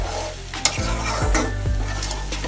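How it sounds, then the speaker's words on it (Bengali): Lima beans and shrimp sautéing in a covered pan for a curry, giving a steady close sizzle broken by a few sharp scrapes and clinks of a stirring spoon against the metal. "ঢেকে দিলে আমরা একটু শিমের বিচি আর চিংড়ি মাছটা কষার জন্য"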